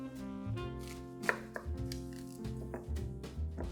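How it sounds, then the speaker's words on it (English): A heavy-duty kitchen knife cuts through a fennel bulb, giving several dull chopping thuds against a board at an uneven pace, close and moderately loud with no speech. "you want to cut it in half."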